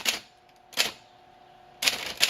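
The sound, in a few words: Royal Academy typewriter typing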